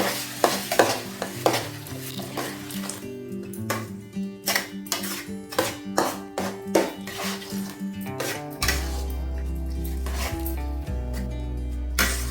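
A spoon stirs rava upma in a wide pan on a low flame, with a steady run of scraping strokes and clinks against the metal. A hiss sets in near the end as liquid is poured in.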